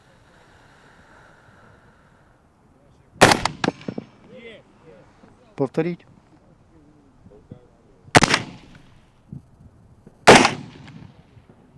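Three sharp, loud rifle shots ring out several seconds apart, each with a short echo, while someone talks quietly between them.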